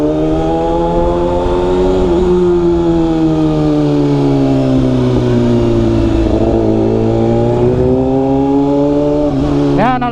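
Several motor vehicles, including a Kawasaki ZX-6R motorcycle, rev their engines loudly on a busy town street during an Alay Lakad procession in Pangasinan, harmonic engine tones rising and falling continuously, with faint talk beneath.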